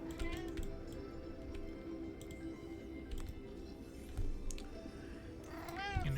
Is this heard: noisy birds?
no